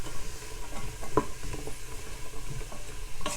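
Vegetables sautéing in a pan for vegan lentil soup, a steady close sizzle with the scrape and clatter of a utensil stirring them around, and no one talking.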